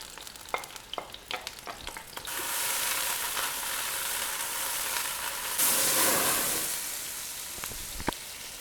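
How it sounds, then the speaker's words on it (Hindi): Sliced onion drops into hot oil in a pan and breaks into a bright, steady sizzle after a few light clicks and taps, with a louder surge of frying midway and the hiss running on alone. "प्याज को हमने यहाँ पर गोल्डन ब्राउन कर लेना है।"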